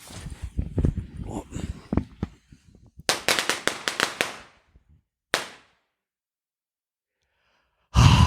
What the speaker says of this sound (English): Yeah, do it right over the fireworks, Bobby